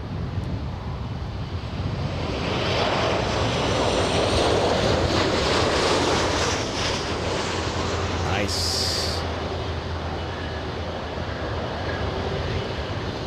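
A Southwest Airlines airliner arriving at LAX airport makes a broad, distant roar that swells and then fades slowly over several seconds, wind-like and continuous, with some faint background voices.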